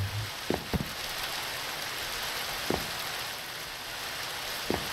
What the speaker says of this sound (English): Hang on, am I hearing the rain down here now?